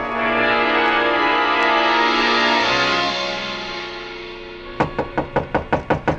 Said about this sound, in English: The knock surprised me.